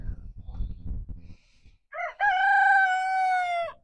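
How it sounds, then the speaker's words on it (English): A rooster crows loudly and close by in a farm setting during groundwork with a yearling horse: one long, drawn-out cock-a-doodle-doo that follows a stretch of low scuffling and rustling. "Better get out of here, Mr. Rooster."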